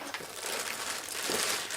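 A plastic bag holding pre-terminated speaker cables with F-type connectors crinkles steadily as it is handled close by, a continuous crackly rustle with no talk.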